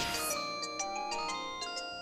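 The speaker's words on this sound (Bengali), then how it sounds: "রিং হচ্ছে।" A phone ringing tone plays through a handset, a repeating electronic melody of short bright pulses, fairly close and clear with no talk over it.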